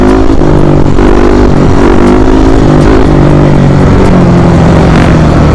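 A motorcycle engine strains hard in third gear, roaring loud and close with a steady high-revving drone and slight pitch shifts, no talk over it.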